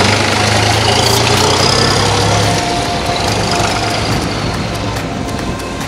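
A tractor in Turkey starts and settles into a loud, close diesel idle, a rough low rumble that eases slightly after a few seconds and then holds steady.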